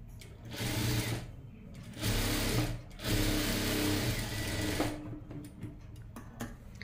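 An electric sewing machine runs in several bursts while stitching fabric at a home tailoring class, a steady close mechanical whirr that stops and restarts, ending in scattered ticks.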